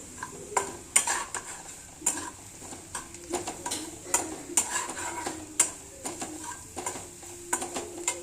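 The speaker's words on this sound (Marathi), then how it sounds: "तर आपण ते एकदा परतून घेऊया" A spatula scrapes and clatters against a pan while fried rice masala stir-fries, with irregular sharp metal knocks over a soft sizzle, close and busy throughout.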